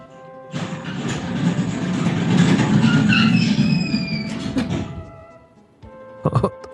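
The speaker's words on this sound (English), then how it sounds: "Sounded like a toy version of the Phantom Train rolling through." A children's ride-on toy car rolls along with a steady rumbling, clattering roll that builds and swells over several seconds, carrying a few squealing tones, then stops, followed by a couple of short knocks.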